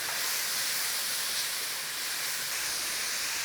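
Onions and peppers with a little salt sizzle in a hot pan, a steady, loud, close hiss that continues unbroken throughout with no talk.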